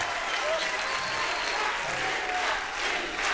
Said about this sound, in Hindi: तालियां रवीना मैम के लिए।